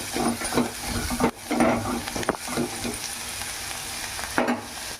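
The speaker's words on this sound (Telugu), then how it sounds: "ఇక ఉల్లిపాయ ముక్కలు కొద్దిగా మగ్గనిద్దాము." Onion pieces with green chillies frying in a pan for a village-style Andhra egg curry, a loud close sizzle broken by stirring scrapes and brief pauses.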